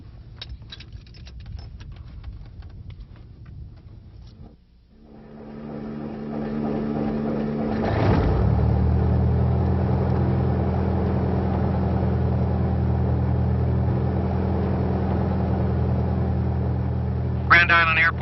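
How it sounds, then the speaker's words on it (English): A small airplane engine cranks and catches, settling into a loud steady propeller drone close by, following a stretch of quiet narration-like talk. "you're ready to start the engine"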